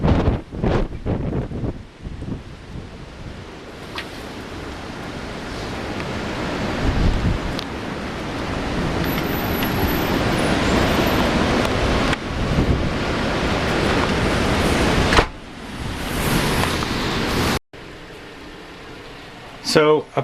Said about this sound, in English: I'm getting hit with dirt. It's really blowing.